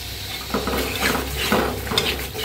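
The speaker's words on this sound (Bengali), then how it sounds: "আর এই তো মাছ ধোয়া শেষ, এখন এটা ভালো করে কষিয়ে নিই" Chapila fish sizzling and being stirred in a hot pan, with steady frying hiss and a few scraping stirs of a utensil against the pan at close range, no voices.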